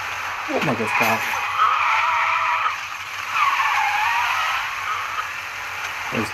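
Car driving and skidding in Mafia Definitive Edition, a steady engine drone with tire squeal sweeping through, loud and close, with a voice talking over it.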